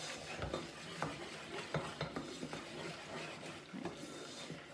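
Flour is stirred into a roux in a pot over medium heat, giving soft repeated scraping and tapping strokes against the pot under a faint sizzling hiss, quiet and close.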